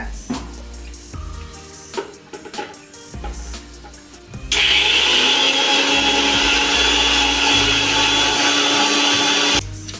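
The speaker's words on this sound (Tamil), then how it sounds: "அரைப்படுறதுக்கு தண்ணி ஊற்றாமல் ரெண்டு ஸ்பூன் எண்ணெய் ஊற்றிக்கலாம்" A kitchen mixer grinder blends okra stuffing paste with sesame oil. A few clattering knocks come first, then a loud, steady whirring grind runs for about five seconds before cutting off.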